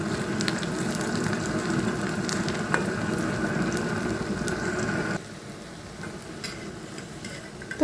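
Food fries steadily in hot oil with a continuous dense sizzle and crackle, close by, with occasional scraping as pieces are turned over; the sizzle drops noticeably quieter partway through.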